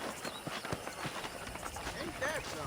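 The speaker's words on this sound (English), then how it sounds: "That ranch hand said there's a pack of wild horses nearby." Wild horses galloping in a Western open-world game, Red Dead Redemption: a steady run of hoof clip-clops under voices, with a brief whinny-like cry near the end.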